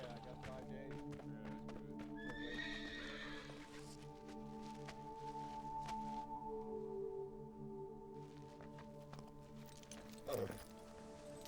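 Horses in a racing stable whinny with rising, bright calls early on, then hooves knock once sharply near the end, all under a steady music and ambience bed.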